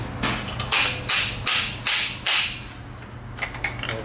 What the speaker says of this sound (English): drive home the washer and outer bushing before you do the